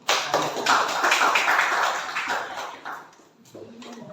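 A classroom of students applauds together, a dense burst of clapping that swells and then tails off over a few seconds, close by and without talk.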